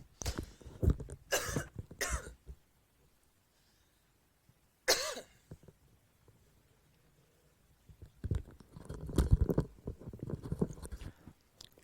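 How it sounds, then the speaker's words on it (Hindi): Several coughs from a man, harsh bursts in clusters separated by quiet pauses, close and fairly faint overall. "खांसी के लिए माफी चाहूंगा यार।"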